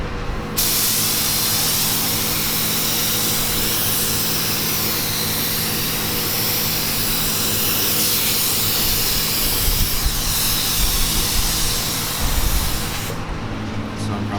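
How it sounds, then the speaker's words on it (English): A steady, loud aerosol spray of hydro dip activator on an RC car hisses continuously for several seconds, with a brief pause at the start and near the end. "then spray with the activator"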